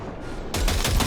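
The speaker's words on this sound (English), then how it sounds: "Fire a short burst into it." Short burst of automatic gunfire in Cyberpunk 2077 gameplay, a brief dense rattle of shots starting abruptly after a low rumbling lull, moderately loud with no voices.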